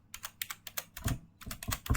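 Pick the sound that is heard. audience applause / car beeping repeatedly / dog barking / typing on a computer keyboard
typing on a computer keyboard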